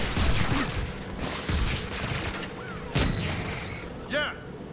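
Anti-aircraft guns firing in Mass Effect 3, a dense rumbling barrage of booms and bursts with several distinct heavy blasts, mixed with electronic game effects.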